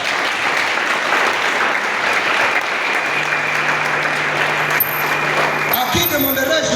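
Wedding guests in a hall applaud and cheer loudly for the groom as he rises, a dense, steady wash of clapping that lasts throughout, with voices mixed in and a brief musical tone near the end.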